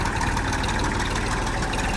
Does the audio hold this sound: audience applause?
no